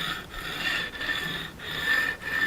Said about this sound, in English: I've made a second pass with the file